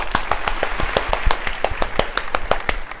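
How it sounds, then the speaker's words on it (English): A round of applause during a children's nursery rhyme session, a quick run of separate hand claps, fairly close and loud, with a brisk, slightly uneven rhythm that carries on for the whole moment. "Give yourself a round of applause because you are so special."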